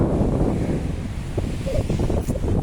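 Sea surf and strong wind at Binurong Point, a rocky coastal headland, making a constant low roar with heavy wind buffeting on the microphone and no clear voices.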